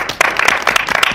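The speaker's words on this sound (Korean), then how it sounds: "박수!" A small group of K-pop members claps quickly and close together in a short burst of sharp, uneven hand claps.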